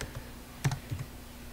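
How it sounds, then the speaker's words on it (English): A few faint keystrokes on a computer keyboard, a short cluster of soft clicks over a quiet room hum, with no voices. "I'm going to start typing a word"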